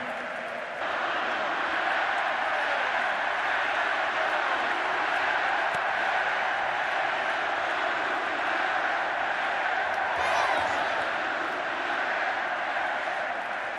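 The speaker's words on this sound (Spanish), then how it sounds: "Ese fuerte aplauso para los aficionados" A large crowd of Atlético Madrid fans at a night welcome event applauds and cheers in a loud, sustained roar, with a voice heard over it.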